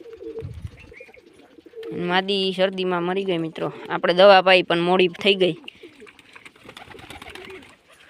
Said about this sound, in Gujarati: બધા કબૂતર બાયણે આવી ગયા છે